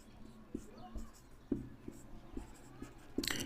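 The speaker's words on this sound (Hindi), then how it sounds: "सबसे पहले लिखेंगे हम हल, उसके बाद लिखेंगे दिया है।" Pen scratching across paper as a maths solution is written by hand, with short strokes and a few sharper taps close by, then a louder rustle at the end. A soft voice can be heard faintly underneath.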